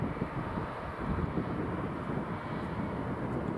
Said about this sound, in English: FR120 departing Dublin, heading over to London Gatwick